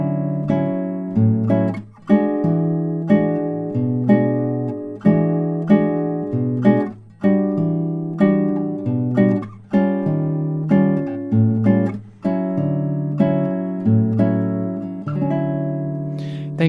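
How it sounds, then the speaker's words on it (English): Acoustic guitar works through a basic bossa nova groove, a bouncing bass line under syncopated chord hits, played steadily and close with no talking. "Now I'm going to play the basic bossa using both variations."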